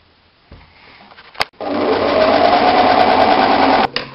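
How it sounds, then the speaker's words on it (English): A sewing machine stitches along the long edge of folded fabric, first a few short clicks and taps, then a steady loud whirring run of about two and a half seconds that stops abruptly. "just sew along the long edge"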